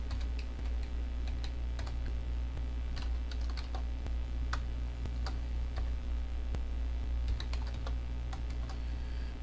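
Keys clatter in quick, irregular bursts as code is typed on a computer keyboard, fairly close and steady over a low constant hum, with no voices.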